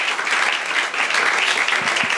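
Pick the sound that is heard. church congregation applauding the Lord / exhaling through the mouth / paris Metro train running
church congregation applauding the Lord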